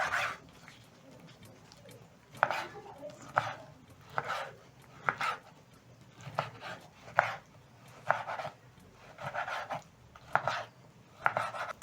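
A knife chops through beef liver on a cutting board in a home kitchen, giving a steady series of sharp, close knocks roughly every second, with no talk over them.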